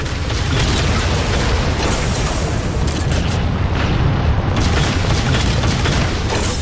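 A heavy railgun blast and booming explosion from the Halo 4 video game, a dense, loud burst of roaring impact noise that fills the whole clip with rumbling debris.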